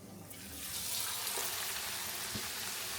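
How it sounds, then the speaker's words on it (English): Pieces of shark meat frying in a hot cast iron pan on a stove, a steady loud sizzle that swells as the pieces hit the pan and keeps crackling evenly, with no voices. "That's got to be frying."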